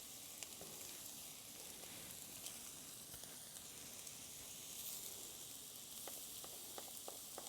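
Mushrooms fry in a pan with a steady, soft sizzle and hiss, faint and close, with a few light clicks of stirring and no talking.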